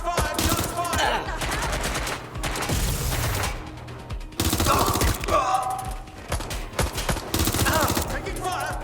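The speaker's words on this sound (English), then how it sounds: "Shots fired!" Gunfire in the video game Watch Dogs Legion: loud, sustained automatic bursts and fusillades filling the scene, with brief pauses between volleys.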